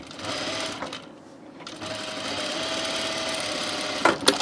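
A sewing machine stitches a French seam on a shirt, giving a steady close whirring hum that dips briefly and then runs continuously, with a few clicks and handling knocks at the end.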